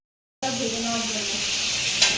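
Spices and turmeric powder sizzle steadily in hot oil for a meat curry, a close, continuous frying hiss with faint stirring under it, starting abruptly after a moment of silence.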